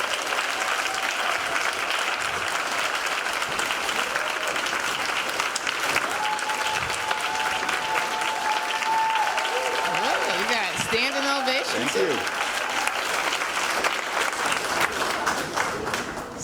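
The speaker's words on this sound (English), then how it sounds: "I just want you all to give Dr. David Fraser a round of applause." An audience at a grant-writing workshop applauds with steady, dense clapping that carries on throughout, while voices call out and talk over it.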